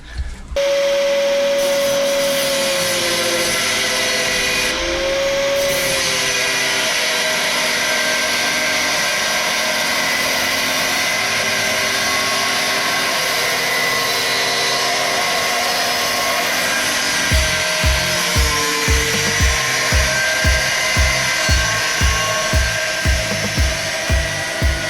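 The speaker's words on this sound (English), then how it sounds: "I'm going to get grinder anyway" An angle grinder cutting sheet metal on a Subaru Forester during fabrication work, a loud continuous whine that shifts pitch as the disc bites, ending in a rapid string of rhythmic pulsing cuts.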